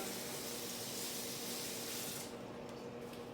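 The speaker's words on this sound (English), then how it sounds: "I'm just gonna give this a little rinse" Running tap water pours steadily as a utensil is rinsed at a kitchen sink during a fajita cooking demonstration, a close, continuous splashing hiss that thins out toward the end.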